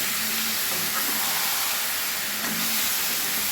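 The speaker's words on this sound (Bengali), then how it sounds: "এবারে আমি মাংসগুলো দিয়ে দিচ্ছি, একসঙ্গে ভেজে নেব।" Chicken pieces fry in a pan with a dense, continuous hissing sizzle that stays loud and steady throughout, close by and with no voices.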